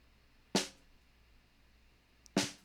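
Two sharp, crisp snare hits from a gated under-snare microphone, about two seconds apart, each cut off quickly into near silence, close and dry.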